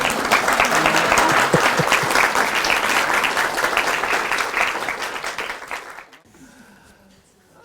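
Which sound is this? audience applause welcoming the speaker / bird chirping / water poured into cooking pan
audience applause welcoming the speaker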